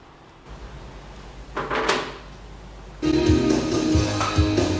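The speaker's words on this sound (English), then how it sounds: "Okay, I got the door unlocked." A door is unlocked and opened with a few clicks and rattles, followed by a louder shift as it swings open to a busier room, with no talking.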